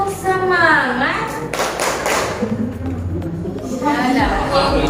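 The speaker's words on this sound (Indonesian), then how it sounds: "Tepuk semangat." A school class does the rhythmic 'tepuk semangat' spirit clap, with patterned hand claps mixed with children's chanting voices at close range, fairly loud throughout.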